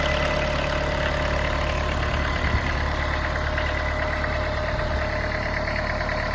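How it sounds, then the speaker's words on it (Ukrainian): A Mitsubishi MT 245 tractor's four-cylinder engine idles evenly and close by, a smooth low rumble with a faint rhythmic knock, alone without talk. "Чотирьохциліндровий двигун, він просто ні з чим не зрівняється, наскільки він тихенько працює."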